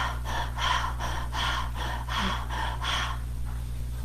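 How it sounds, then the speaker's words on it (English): Deep, rhythmic breathing during a masculine breathwork exercise, with roughly six strong breath cycles at a steady pace, close and loud over a low steady hum, easing off at the end. "While you are breathing"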